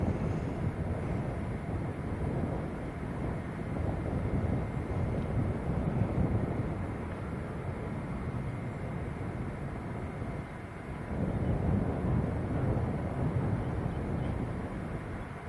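A Boeing 757 jet at Manchester Airport rumbles at a distance, a low, steady engine roar that swells and eases over several seconds beneath wind noise.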